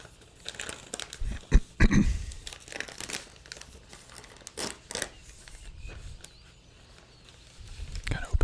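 A plastic comic book bag is cut open with scissors and handled, giving irregular crinkling and rustling bursts, some sharp and close, across several seconds with quieter gaps between.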